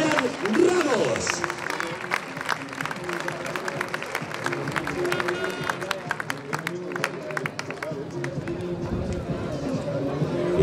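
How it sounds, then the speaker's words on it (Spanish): Crowd applause and cheering for a recortador performing quiebros before a cow at the Azagra street fiesta, a dense, sustained clapping roar with scattered sharp claps, close and loud throughout. "Fuerte aplauso para Adrián Ramos."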